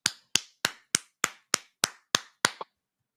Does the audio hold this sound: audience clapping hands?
yes